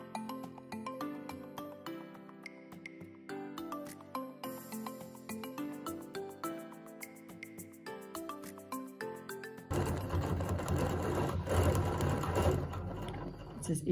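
Sewing machine stitching a locked stitch on a quilting machine, a rhythmic mechanical run under music, ending in a denser burst of whirring near the close.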